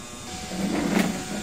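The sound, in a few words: DTF printer machine running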